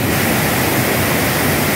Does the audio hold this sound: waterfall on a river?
yes